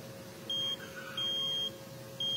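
Buzzer on a Panasonic air-conditioner outdoor unit circuit board sounding three short, faint beeps of uneven length over a low background hum.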